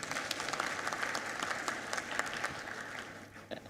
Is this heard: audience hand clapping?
yes